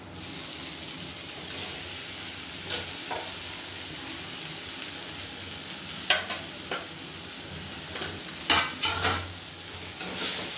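A mashed potato mixture is stirred into turmeric and spices in a pan, giving a quiet, steady sizzle broken by occasional scraping strokes of a spoon against the metal.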